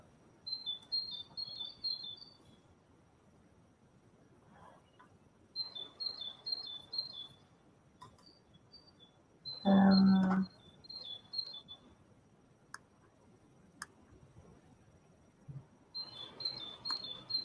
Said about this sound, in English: There is a bird singing.